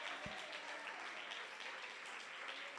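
Church congregation clapping during a sermon on worship, a faint, steady patter of many hands with one sharp knock early on.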